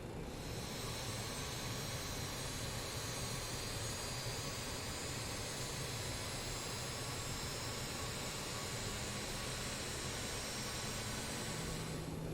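Four running jet engines of a BAE146-100 airliner drone steadily after start-up, a loud, constant roaring whine with a high tonal hum that holds unchanged throughout, with no voices.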